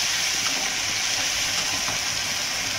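Cumin, then onion, garlic and garam masala pastes frying in hot oil in a pan, giving a steady, even sizzling hiss that holds at one level throughout, with no talking.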